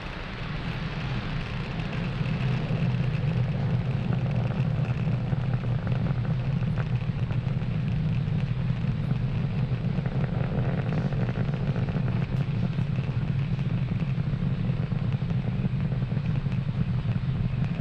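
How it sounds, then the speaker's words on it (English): A SpaceX Falcon 9 rocket lifts off from Space Launch Complex 40 at Cape Canaveral Space Force Station, Florida, carrying SES mPower satellites. A broad, steady roar swells within the first two seconds, then holds loud and unbroken with no voices. "Falcon 9 has successfully lifted off from Space Launch Complex 40 at the Cape Canaveral Space Force Station in Florida"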